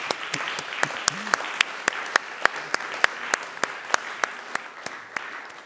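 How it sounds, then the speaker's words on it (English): Sparse audience clapping at the opening session of an in-person audio effects conference, with distinct individual claps spaced out in a steady rhythm, moderately close and without voices. "I thank you, I clap you."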